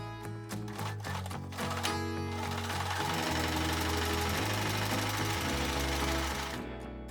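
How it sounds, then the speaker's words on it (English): A sewing machine stitches an apron pocket seam with a 5/8-inch allowance, running in a fast steady rhythm that starts in short bursts and then settles into one continuous loud run. "I will sew around the edge with a 5/8 of an inch seam allowance"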